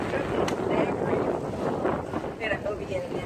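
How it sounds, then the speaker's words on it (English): Steady wind rushes over the microphone aboard a sailboat on Canyon Lake, with water and boat noise under a person talking throughout. "Here we are sailing on Canyon Lake."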